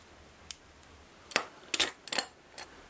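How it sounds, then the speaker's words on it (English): White metal being shaved with a knife while building a WW1 British 18 pounder gun kit: five or six short, crisp scraping strokes, some in quick pairs, close and fairly quiet against a still background. "White metal is quite soft, so you can shave it with a knife"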